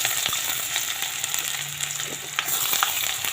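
Chopped onion and garlic fry in hot oil with bay leaf, a dense, continuous sizzle close by, broken by occasional clicks and scrapes of stirring, with no talking.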